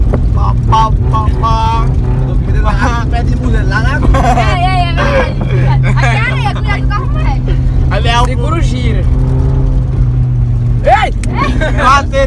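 A car engine hums steadily inside the vehicle during a driving lesson on sandy ground, with excited voices talking and shouting over the low drone.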